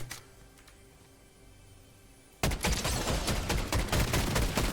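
Machine gun fire in Fortnite erupts suddenly after a quiet stretch, a loud rapid continuous burst of shots that runs to the end.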